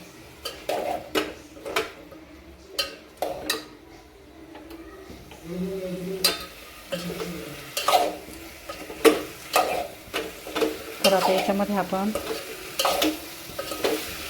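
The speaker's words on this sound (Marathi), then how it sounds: "हे आपण फोडणी छान मिक्स करून घ्यायचे आहे" Drumstick pods are stirred through a spice tempering in a pan, with intermittent scraping and clinking of a spoon against metal over a low sizzle. A voice speaks briefly between the strokes.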